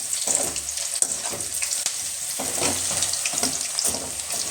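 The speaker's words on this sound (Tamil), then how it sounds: "இப்போ நல்லா வெந்துட்டுருக்கு பக்கோடா" Butter pakoda made with wheat flour deep frying in hot oil, a close steady sizzle and crackle with bubbling bursts and occasional stirring.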